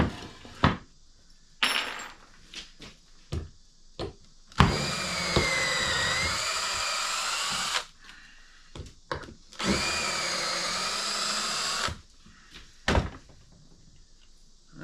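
Two long runs of a close power drill with an old, nearly dead battery, steady whining with a slight pitch wobble, separated by clicks, thumps and handling noise.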